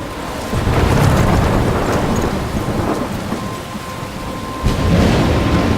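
Heavy thunderstorm in the game Life Is Strange, with steady loud rain pouring down and deep thunder rumbling throughout, swelling again near the end; no voices.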